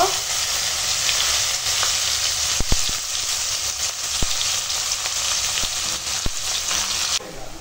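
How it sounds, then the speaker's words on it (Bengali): Chopped onion frying in oil in a pan for a Bengali meal, a loud continuous sizzle with several sharp utensil knocks scattered throughout and no talking. "ওই তেলেই এখন দিয়ে দেবো কেটে রাখা পেঁয়াজ। পেঁয়াজটা ভেজে নেব।"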